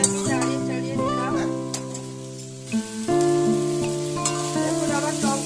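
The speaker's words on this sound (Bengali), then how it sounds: "ভালো করে আমি নাড়িয়ে চাড়িয়ে দিলাম" Sour okra fries in a pan while being stirred, giving a soft sizzle with scraping stirs beneath steady tonal background sounds.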